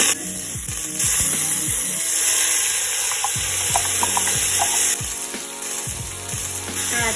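Garlic sizzles in hot olive oil in a large pot, a steady loud frying hiss with spoon scrapes and stirring knocks over it.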